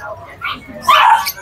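A Yorkie puppy at a pet market gives a short high whimpering yip and bark, close by, over a busy crowd with people talking.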